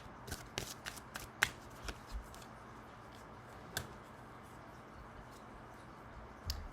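Tarot cards being shuffled by hand, a run of crisp riffling flicks and slaps, then scattered single snaps, close and clear with no talking.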